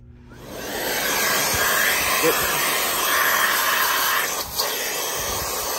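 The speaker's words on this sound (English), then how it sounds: "Now I'm going to show you what the crevice tool does to the bag check indicator." A Miele vacuum cleaner with its crevice tool attached runs steadily as a loud, continuous airflow whoosh after a quick start. A brief dip near the end suggests the airflow being blocked for a moment.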